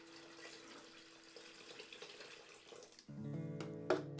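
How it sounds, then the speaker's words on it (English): Water runs from a tap, a soft trickle that turns louder and more resonant as it fills a pot, with a few clinks at the end. "So all I'm gonna do now is just add water."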